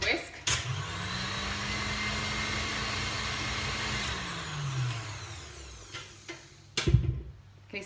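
An electric mixer whisk hums steadily at high speed, beating caster sugar into a pavlova meringue. The drone spins down midway, followed by a few clunks and handling knocks.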